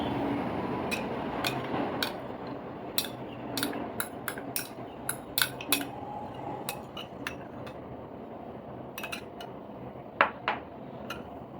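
Spoon stirring pancake batter of milk and curd, mixed without oil, giving a run of light clinks and taps against the bowl, scattered and irregular, fairly close, with no talk.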